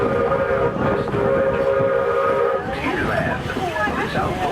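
The Walt Disney World Railroad train rumbles along steadily with a sustained whistle tone, then a spoken voice carries over the running train.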